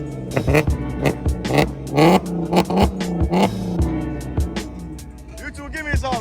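At a car-enthusiast meet in a car park, a van engine revs close by in rapid sharp bursts that rise and drop, with loud crowd chatter and voices over the engine.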